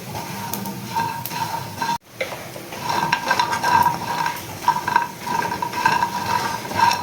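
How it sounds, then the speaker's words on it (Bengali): Lentil dumplings (bori) frying in a pan until reddish, with a steady soft sizzle, scraping and stirring, and light clinks of utensil against the pan. There is a brief dropout near the start, then continuous activity close by. "বড়িগুলোকে আমি লাল লাল করে ভেজে নিচ্ছি।"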